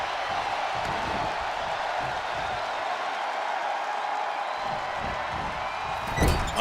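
A virtual arena crowd in the WWE 2K25 wrestling video game roars steadily, with a thud near the end and a commentator talking over the noise.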